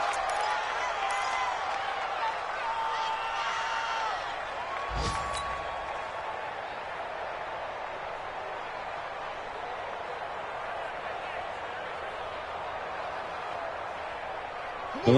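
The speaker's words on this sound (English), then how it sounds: "Listen to this crowd now." Stadium crowd noise from a PS4 football video game swells as a steady, dense roar through the whole stretch, with a sharp thump partway in and commentary-style voices running over it.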